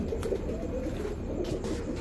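A male Sapchila pigeon cooing up close, a low, continuous throaty rolling call that fills the short stretch with no voices over it.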